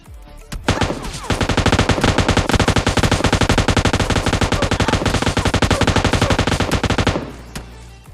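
Loud, sustained machine gun fire in PUBG Mobile Lite rattles in a rapid, continuous burst for several seconds, then cuts off abruptly.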